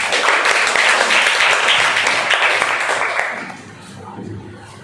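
A classroom audience at a Hindi quiz event bursts into dense, loud, continuous applause that drops off sharply after about three seconds, leaving quieter murmuring and a voice.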